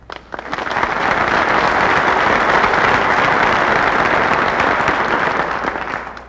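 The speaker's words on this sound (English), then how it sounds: "Before you clap" Sustained applause from a lecture audience, a dense wash of many hands clapping that swells quickly and holds steady at close range for several seconds before tapering slightly at the end.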